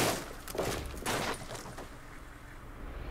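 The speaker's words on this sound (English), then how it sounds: "Someone else is shooting at us." Gunfire from other players in ARMA 2, a few distant, muffled cracks over a steady noisy background, fading into a low rumble.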